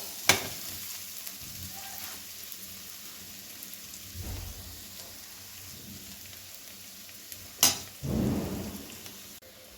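Onions sauté in a pan for a one-pot sweet corn vegetable rice, giving a steady low sizzle with occasional stirring scrapes. Two sharp clatters and a louder, brief sizzle swell come near the end.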